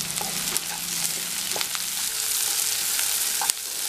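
Onions and green chillies sauté in oil with a pinch of salt for chicken chukka. A continuous, even frying sizzle is dotted with occasional sharp clicks from stirring.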